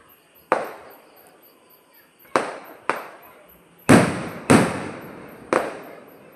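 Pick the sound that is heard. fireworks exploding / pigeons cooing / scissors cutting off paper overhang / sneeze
fireworks exploding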